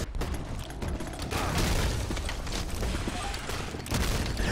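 Shotgun blasts in Team Fortress 2 during a competitive flag-capture match, sharp bursts mixed into a dense, steady wash of gunfire and game noise with no clear gaps.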